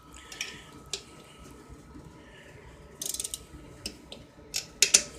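Ratchet tightening intake manifold studs threaded into aluminum on a C4 Corvette, giving scattered close metallic clicks with a quick burst of rapid ratcheting in the middle and a few louder clacks near the end.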